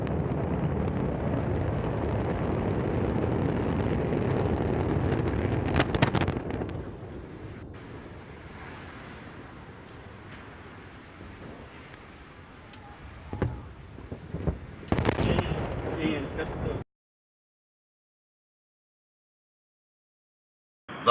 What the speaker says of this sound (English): we have liftoff of Antares, the Deep 3 mission, delivering Cygnus on its third CRS mission to the ISS